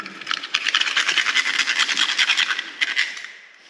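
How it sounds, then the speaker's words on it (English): A tilted butter knife scrapes along the bottom of a shell, a close, continuous rasping scratch with quick repeated strokes that fades out at the end. "you just scrape along the bottom of the shell"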